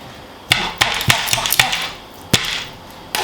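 Garlic cloves are smashed flat on a kitchen board while cooking bolognese, giving a handful of sharp, close thwacks at irregular intervals.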